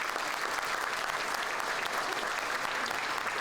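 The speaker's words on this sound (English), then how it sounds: "a round of applause for those artists" An audience applauds artists at an art night event, a steady, dense wash of clapping from many hands that holds evenly throughout at moderate distance.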